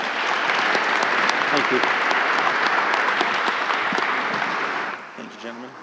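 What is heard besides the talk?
audience applause for panelists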